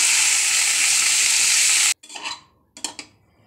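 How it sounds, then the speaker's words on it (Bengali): Cauliflower and potato pieces sizzle loudly in a hot oiled pan for about two seconds, then the frying stops and a spatula stirs and scrapes the pan in two short bursts. "এই একই কড়াতে আমি ফুলকপি আর আলু একটু হালকা হালকা করে ভেজে নেব।"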